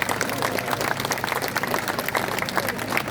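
An audience at a French political rally claps steadily, producing a dense, continuous patter of many hands throughout, with a faint hint of voices underneath.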